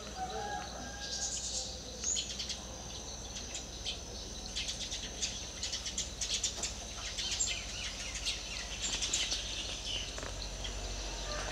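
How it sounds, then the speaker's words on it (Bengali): Birds chirp and call near a tea garden in Kurseong, scattered bright tweets over a steady insect buzz, moderately distant and without speech. "আমি সাইলেন্ট হয়ে যাব আর তোমরা শুনবে সামনে কি সুন্দর পাখিদের আওয়াজ"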